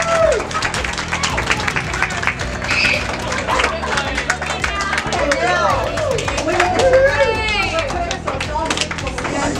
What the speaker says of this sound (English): would you please give your teachers a round of applause?